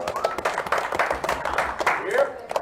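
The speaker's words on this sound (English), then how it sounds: "Please give a round of applause to Kelly Joe." Players and spectators at a poker tournament final table clap briefly, scattered uneven hand claps mixed with an announcer talking over them.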